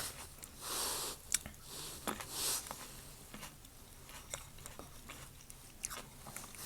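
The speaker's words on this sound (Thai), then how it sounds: "อันแช่ตัวเย็นกรอบๆเลยนะฟัง ได้ยินเสียงบ่" Crispy chilled food bitten and chewed close to the mic, with repeated crisp crunches spaced irregularly over several seconds, quiet and without talking.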